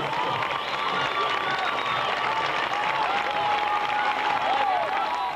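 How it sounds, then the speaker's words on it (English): Large crowd lining the streets of Shawinigan cheers and applauds canoe racers passing through, a steady wash of clapping and shouting that stays loud and continuous throughout. "Huge crowds are on hand to encourage the races."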